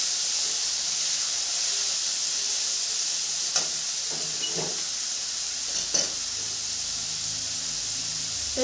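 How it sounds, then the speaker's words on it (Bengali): Finely chopped carrot for paneer cutlets fries in a pan with a steady loud sizzle and hiss, broken by a few soft scrapes and clinks of stirring, close and without talk. "এই 30 সেকেন্ড মতন ভেজে নিব।"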